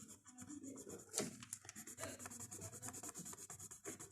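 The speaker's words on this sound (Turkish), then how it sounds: "Şurayı da ben normal kalemle boyayayım." An ordinary pencil colours on paper in quick, soft rubbing strokes, a close, faint scratchy rasp repeating in a steady rhythm.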